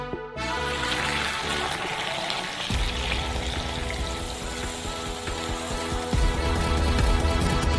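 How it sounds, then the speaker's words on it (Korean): Hot boiled coffee poured from a stovetop pot into a large cup, a steady liquid stream splashing and gurgling close by for several seconds, the pitch shifting as the cup fills. "커피는 이미 끓었으므로 스토브에서 꺼내 큰 컵에 부어주세요."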